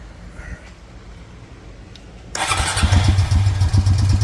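A Honda Rancher ATV engine from an estate sale cranks and fires up abruptly, then settles into a loud, close, steady idle with a chugging rumble.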